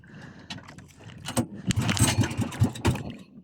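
A small engine, likely a motorbike or similar, is cranked repeatedly but fails to catch, giving a series of rough, sputtering bursts with key-like jingling, close and fairly loud, with no talk.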